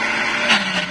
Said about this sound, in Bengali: এখন আমি ব্লেন্ডার করব।